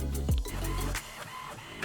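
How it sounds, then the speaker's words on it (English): An inkjet-style printer slowly feeding and printing a sheet of iron-on transfer paper for custom fabric tags, with a steady mechanical whir broken by rhythmic clicks and carriage passes, close and heard alone. "I'm going to send it to the printer."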